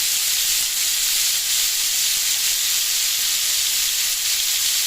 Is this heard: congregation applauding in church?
no